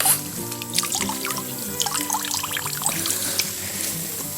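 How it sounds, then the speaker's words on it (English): Swamp water in a Georgia swamp pouring and sloshing into a boot: a close, busy gurgle of trickles, splashes and drips, steady and moderately loud with no speech. "I always loved just having a gallon of water dumped down into my boot."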